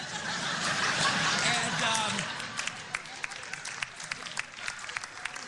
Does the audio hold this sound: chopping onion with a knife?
no